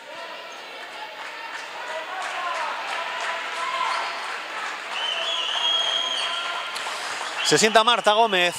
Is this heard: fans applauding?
yes